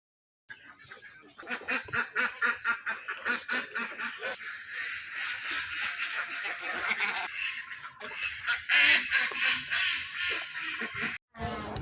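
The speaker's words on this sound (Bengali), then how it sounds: "আপনারা শুনতে পেলেন কি সুন্দরভাবে হাঁসগুলো ডাকতেছে" Ducks at the old zamindar palace in Kalia Haripur, Sirajganj, keep up a steady, loud run of harsh quacking calls, with a brief gap near the end.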